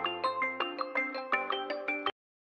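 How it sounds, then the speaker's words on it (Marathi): A mobile phone ringtone plays in a home setting in a Marathi TV serial, a bright repeating electronic melody of about ten rhythmic pulses lasting two seconds before cutting off abruptly, heard alone and clearly. "अरे फोन वाजला का?"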